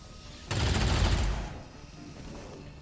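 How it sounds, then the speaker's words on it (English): A sudden loud burst of rapid gunfire in the XCOM 2 Long War of the Chosen strategy game, with shots rattling together for about a second before cutting off into quiet game ambience. "Shots."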